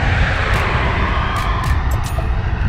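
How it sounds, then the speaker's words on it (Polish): A loud airplane passes overhead with a broad, sustained roar, and a few faint clicks and taps sit on top of it. "samolot"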